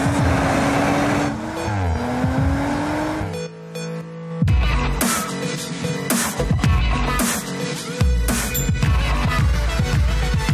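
2019 Audi RS 5 Sportback in dynamic drive mode, engine revving and rising in pitch then shifting, loud with passing and accelerating bursts, mixed with music.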